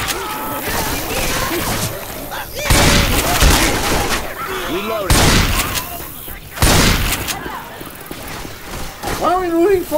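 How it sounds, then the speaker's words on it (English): Gunfire bursts from Left 4 Dead 2 on the Dark Carnival campaign, loud broadband volleys hitting in several clusters across the span, mixed with a chaotic game soundtrack and voices talking over the action. "Why in the hell y'all keep shooting me?"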